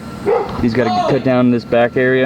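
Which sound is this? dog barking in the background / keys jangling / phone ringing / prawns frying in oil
dog barking in the background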